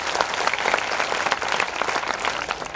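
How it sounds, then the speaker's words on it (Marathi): An audience gives a brisk round of applause to a board of directors at a welcome ceremony, a thick, close burst of many hands clapping at full volume throughout. "सगळे संचालक मंडळ त्यांच्यासाठी एकदा जोरदार टाळ्या वाजवा"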